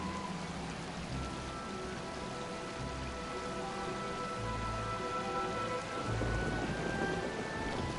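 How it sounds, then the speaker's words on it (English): Steady rainfall patters continuously across a Genshin Impact game world, with soft game music tones layered underneath and no voices. "And it's gonna rain again."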